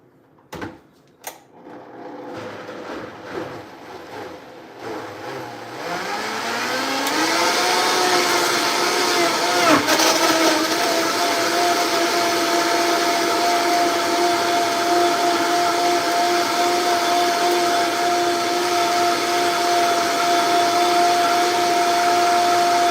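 A Vitamix blender blending a spinach smoothie starts after a few soft clicks, then roars up to a loud, steady whine that holds level through the rest of the clip with no one talking.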